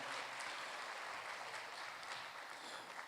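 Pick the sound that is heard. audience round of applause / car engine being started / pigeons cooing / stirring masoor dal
audience round of applause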